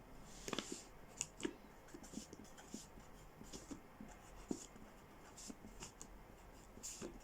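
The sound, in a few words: writing a matrix example on a board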